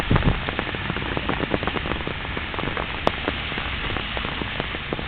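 Steady rain patters densely on a surface, many close drops tapping irregularly with no voices.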